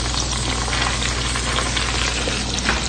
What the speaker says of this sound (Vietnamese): Mình chiên thịt để nắp để cho thịt chín.